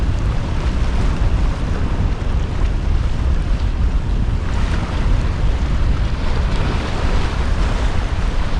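Strong sea wind buffets the microphone in a constant roar at high tide while sea fishing, with surf and open water churning beneath; no voices, just relentless gusting noise throughout.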